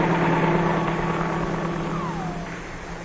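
A 1950s helicopter drones steadily in an old film soundtrack, its engine and rotor giving a constant, even hum that fades slightly toward the end, with no one speaking.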